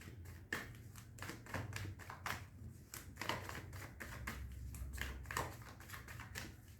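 Tarot cards being shuffled by hand, a quick run of soft riffling taps and flutters that continues steadily for several seconds, close but quiet, with no talking.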